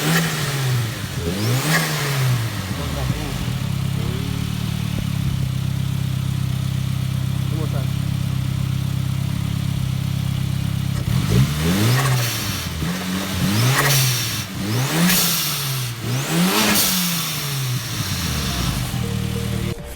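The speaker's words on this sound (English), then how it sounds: "what the blow-off valve sounds like when it's closed and when it's pretty much wide open" A turbocharged car engine revs repeatedly, each rise in pitch ending in a sharp hissing whoosh as the blow-off valve vents, close and loud.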